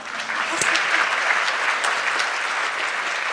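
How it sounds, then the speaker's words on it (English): Sustained applause from a seated audience at a university graduation ceremony, many hands clapping in an even, dense wash with a few sharper claps standing out nearby. "So I think he deserves a second round of applause."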